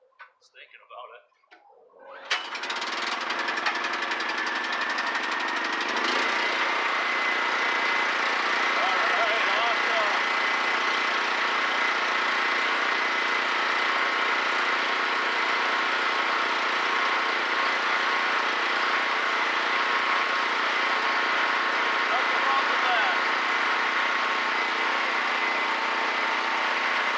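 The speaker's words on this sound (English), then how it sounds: "The generator has probably about 95 hours on it total." A three-year-old portable generator with about 95 hours of use, started by pull cord, sputters briefly, then settles into a steady, loud engine drone that runs evenly for the rest of the clip, close by.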